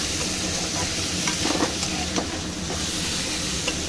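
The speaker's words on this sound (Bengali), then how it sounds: "খুব ভালো করে আমি মশলাটা আলুটা একসঙ্গে কষাচ্ছি" Spice paste and potatoes fry and get stirred in a pan for a fish and potato curry, a continuous sizzling hiss broken by a few scraping stirs up close.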